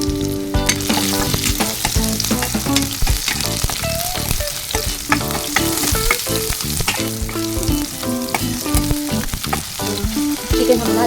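Garlic and onion fry in a pan for chicken hamonado, a steady loud sizzle with stirring clatter and scraping running throughout, no voices.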